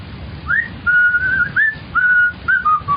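A person whistles a bright, wavering tune of short rising and sliding notes with brief pauses between phrases, fairly close and clear.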